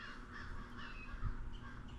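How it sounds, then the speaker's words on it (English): Crows cawing beside a lake near an old stone cabin, a few harsh calls over a steady outdoor background, moderately near and fairly quiet. "Birds are going crazy."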